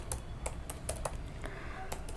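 Keys on a computer keyboard clatter as code is typed, a quick run of separate close taps with short pauses between them and no voices.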